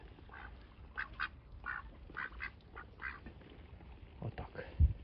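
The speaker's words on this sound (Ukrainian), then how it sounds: "селезні, особливо блакитний. Вже заграє до качки." Repeated soft quacking calls from drakes calling to a female duck, scattered and fairly close, over a low rumbling background.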